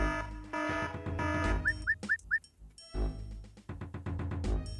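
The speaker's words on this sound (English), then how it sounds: "Two alarms" Two alarms going off in a grand-theft-style video game, heard as a short burst of rising electronic chirps between stretches of loud in-game music and ambient sound.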